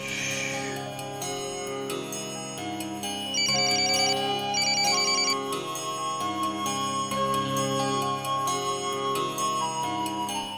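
Melodic ringtone-style tune playing steadily as an outgoing phone call rings through, sustained electronic tones with no talking.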